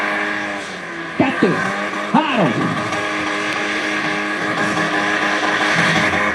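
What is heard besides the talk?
car engine revving at a driving skill competition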